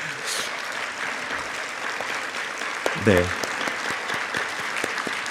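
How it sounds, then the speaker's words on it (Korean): A church youth congregation claps together at a Sunday service, a sustained even wash of applause throughout, with a brief spoken word from a person partway through. "우리 한 번 더 우리 잘 왔다고 박수했으면 좋겠습니다"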